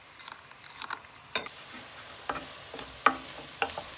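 Carrot cooking in a pan with soy and fish sauces gives a soft, steady sizzle, broken by occasional sharp scrapes and taps of the stirring utensil nearby.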